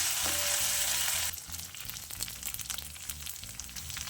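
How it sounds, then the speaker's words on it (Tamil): Shallots and tamarind sauté in hot oil, a loud steady sizzle at first that drops to a softer crackle with scattered stirring clinks, close and alone. "ஒரு 10 செகண்ட் இப்படி வதக்கினீங்கன்னா போதும்"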